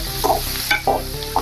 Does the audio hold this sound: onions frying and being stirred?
yes